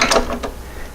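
Ratcheting wrench clicks while tightening the crank pulley nut on a Porsche 912 engine during a rebuild, a few quick close mechanical ticks in a short burst.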